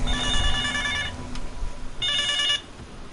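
A phone rings with a ringtone from an unknown number, two bursts of bright trilling separated by a short pause, loud and close with no voices over it.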